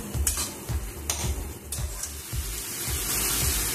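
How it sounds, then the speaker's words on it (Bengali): Potatoes are stirred and fried with spices in a pan for a Bengali dal curry, a steady sizzle punctuated by rhythmic scraping strokes of a spoon, close and without talk. "মশলাটার সাথে আলুর সাথে ভালো করে একটু কষিয়ে নেব।"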